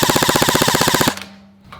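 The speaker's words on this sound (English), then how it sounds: "let's see how many gel balls it fires per second when you hold down the trigger on full auto" An ICS Lightway Peleador gel blaster fires full auto in a fast, even burst of sharp mechanical cracks lasting about a second, loud and close, then stops and leaves only a faint hum.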